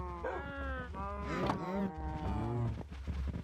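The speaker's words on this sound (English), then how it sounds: "cow choir practice going on in this room" Cows mooing in the Minecraft video game, several overlapping drawn-out moos in a steady chorus, loud and close, with no talking over them.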